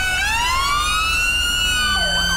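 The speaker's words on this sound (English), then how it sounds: "I don't know why his siren's on." An emergency vehicle siren in the video game GTA V wails loudly and continuously, its pitch sweeping up and down with a second siren tone joining near the end, over a steady engine rumble.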